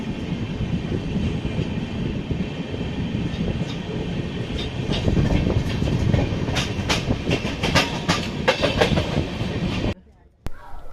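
Pawan Express passenger train running, heard from inside a packed 3rd AC coach: a steady loud rumble with rhythmic clickety-clack of wheels over rail joints, alone for about ten seconds before it cuts off abruptly.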